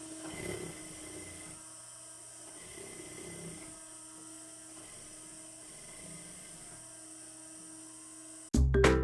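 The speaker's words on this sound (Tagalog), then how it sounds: "nagtatahi po tayo sa gilid mga kaibigan" A sewing machine stitches along the side of a fabric travel bag with wheels, a steady mechanical hum running in short bursts with brief pauses, fairly quiet and close, ending in a sudden loud burst.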